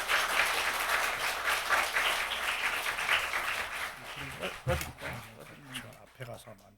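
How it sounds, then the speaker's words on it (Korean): A church congregation gives hearty applause to welcome a guest speaker: dense, loud clapping fills the room, then thins out as voices begin speaking. "우리 힘찬 박수로 강사님을 모시겠습니다"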